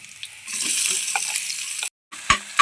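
Chopped onion dropped into hot oil already seasoned with mustard seeds, cumin and garlic, bursting into a loud sizzle that holds steady, breaks off briefly, then returns with a few sharp crackles and clinks.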